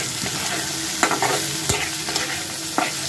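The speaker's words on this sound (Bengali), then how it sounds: "ডিমটা আবার সব সবজির সাথে ভালো করে মিশিয়ে দিচ্ছি।" Egg and vegetables for flour noodles are stirred in a hot pan, a constant bright sizzle punctuated by a few crisp spatula knocks and scrapes, close up without speech.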